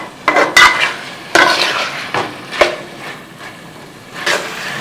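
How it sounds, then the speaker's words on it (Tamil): Chicken liver fries in a pan while a utensil stirs and scrapes it, giving several sharp clattering strokes over a soft background sizzle, close and with no talking. "இது ஆல்மோஸ்ட் ஃபுல்லாக ஃப்ரை ஆயிடுச்சு"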